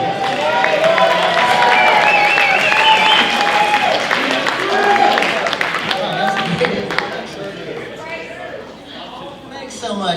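An audience applauds loudly and steadily for a musician at a music showcase conference in Madison, Indiana, with whoops and crowd voices mixed into the clapping, which fades slightly near the end.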